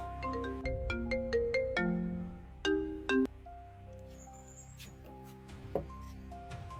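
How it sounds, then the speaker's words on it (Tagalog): A cellphone ringtone plays a bright, plucked melodic tune of repeating notes, fairly close and clear, with no talking over it. "Hala, cellphone ko."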